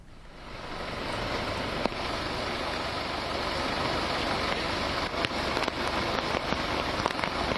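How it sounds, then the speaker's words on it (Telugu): Heavy torrential rain pours down steadily over waterlogged Mumbai roads in a dense, continuous hiss, with a few sharper splashes and knocks standing out. "ముంబైలో వానలు కుమ్మేస్తున్నాయి"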